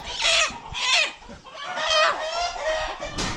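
Ameraucana chickens squawk and cluck loudly and close by during poultry testing, a run of agitated, overlapping calls rising and falling across the whole stretch.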